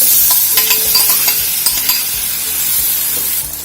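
Banana pieces sauté in hot ghee in a pan, a loud, close, continuous sizzle broken by frequent scraping stir strokes, with no talking.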